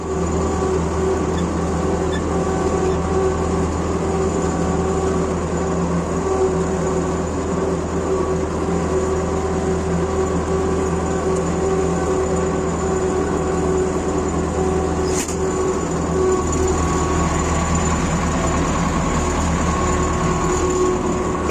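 A tractor ploughing a field with a repaired PLN 3-35 mounted plough running without its coulter discs, giving a steady, loud engine drone with continuous rumble throughout and no talk.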